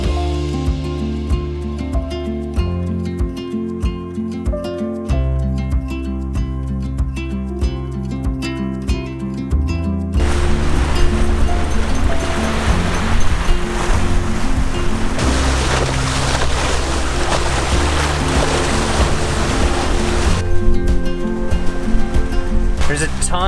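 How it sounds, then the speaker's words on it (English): Wind and waves while sailing at sea off Bali, Indonesia: music-like tones come first, then a loud, steady wash of rushing water and wind that continues to the end. "Finally, the wind started picking up,"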